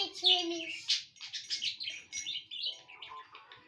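A small bird chirps and tweets in rapid, bright bursts close by, with soft background sounds underneath.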